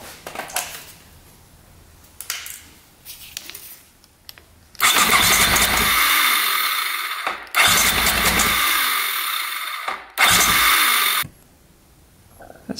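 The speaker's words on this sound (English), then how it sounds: "So now we can do it with the electric start, and it should be normal compression." A 500cc supermoto engine that has sat for 15 years cranks on its electric starter during a compression test, in three loud, steady whirring bursts of about two to three seconds each, with quieter handling noises between them and no firing.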